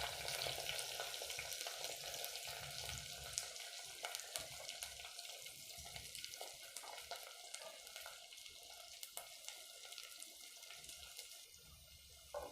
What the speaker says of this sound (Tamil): இப்போ வெங்காயம் சீக்கிரம் வதங்கிடும்.